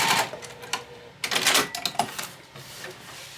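A sewing machine bastes a loop onto a cat-themed Christmas stocking with bursts of close, rapid mechanical stitching that start and stop, separated by brief pauses.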